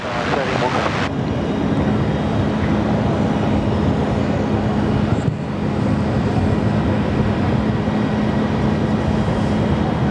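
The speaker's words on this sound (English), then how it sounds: "Here we go, 787 off 34 right, looking forward to this one." A Boeing 787 takes off from runway 34 right at Sydney Airport, its jet engines a loud, sustained roar that holds steady at close range.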